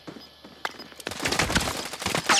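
After a quiet moment, a sudden burst of rapid gunfire erupts in a battle royale shooter and keeps cracking loudly, close and sustained, through the rest of the moment.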